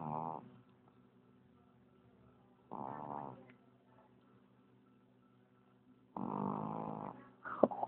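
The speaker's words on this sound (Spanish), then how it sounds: "Ronca más que mi mamá." Loud, harmonic snoring breaths, three long rasping inhalations spaced a few seconds apart, close to the sleeper, with quiet room sound between them.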